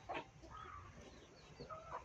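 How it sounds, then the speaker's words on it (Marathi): Hens sitting in the dirt in the afternoon cluck and chatter in short bursts, a mix of soft calls close and a little farther off, fairly quiet with steady background noise. "हे बघू शकता आपल्या कोंबड्या"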